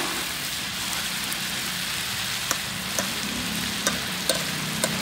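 Chicharrones a la mexicana frying in a pan with tomato, a steady soft sizzle with occasional small pops and crackles, no voices.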